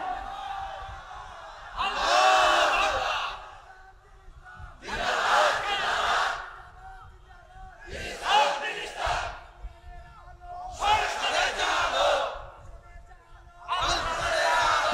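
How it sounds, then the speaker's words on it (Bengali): A large Muslim gathering in Panchagarh roars the takbir, 'Allahu Akbar', in five loud, rhythmic bursts of massed shouting, each a couple of seconds long and separated by short pauses of murmuring. "আল্লাহকে বড় করে দে, দে জোরে একটা তাকবীর দে।"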